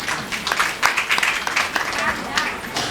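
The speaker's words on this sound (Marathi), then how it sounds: "विद्यार्थ्यासाठी सुद्धा एकदा जोरदार टाळ्या." An audience claps for a student at a women's haldi-kunku gathering marking a temple's 150th anniversary, a moderate scattered round of applause with talk mixed in.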